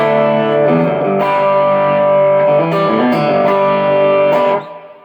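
Gritty overdriven electric guitar through an overdrive pedal and compressor plays sustained chords and notes, thick and saturated, before fading out at the end.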